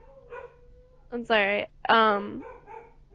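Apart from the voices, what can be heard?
dog barking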